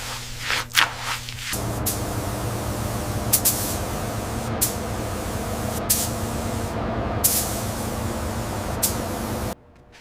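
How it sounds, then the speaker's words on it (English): A spray gun hisses wood stain onto furniture in a factory finishing area, a loud continuous spray in several long bursts broken by short pauses, then an abrupt stop near the end. "The stain is sprayed on,"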